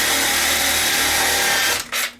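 A power drill bores through a solar panel leg with a steady, high-pitched whine close by, then winds down and cuts out near the end.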